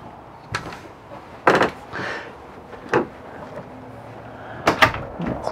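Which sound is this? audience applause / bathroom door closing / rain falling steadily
bathroom door closing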